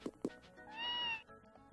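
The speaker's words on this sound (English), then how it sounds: "Sounds like a cat." Two short soft thumps, then a single clear, tonal meow from a cat in the Super Famicom game Tales of Phantasia, close and fairly quiet, with no talk over it.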